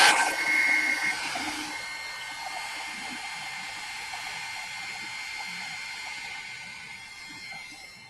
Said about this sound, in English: I'm going to turn my heat tool on again.